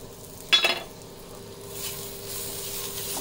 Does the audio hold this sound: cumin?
yes